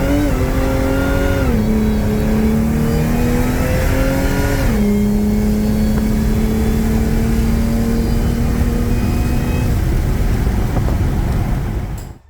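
Holden Calais car engine running loudly and close, revving with pitch steps as it shifts and pulls out, holding steady before cutting off abruptly at the end.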